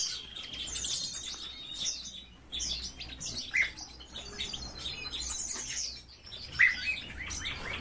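Caged buntings give short, high chirps and tweets at intervals, with a couple of sharper calls standing out over a soft, steady room background; no one speaks.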